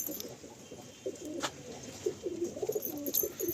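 Pigeons at a loft coo in a soft, repeated throaty rumble, with a brief rustle of wings, faint against quiet background noise.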